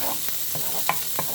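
Shallots and garlic cooking in a hot pan give a soft continuous sizzle, broken by a few brief scraping strokes of a utensil, close up and without voices.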